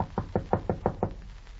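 A period radio drama sound effect of knocking on a door, about six firm, evenly spaced raps heard alone and close, set at a home in the Pueblo de Los Angeles in 1828.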